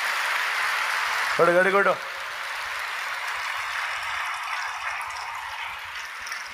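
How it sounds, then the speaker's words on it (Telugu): Church congregation clapping loudly during a service: steady, dense applause throughout, broken by a short shouted word from a voice. "నిజంగా మీకు విశ్వాసం ఉంటే గట్టిగా చప్పట్లు కొట్టి దేవుని మహిమపరచు"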